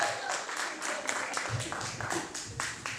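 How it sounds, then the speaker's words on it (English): An audience at a Zambian High Commission gathering applauds to welcome a speaker, with moderate, continuous clapping and a few voices murmuring underneath. "Ladies and gentlemen, hand of applause."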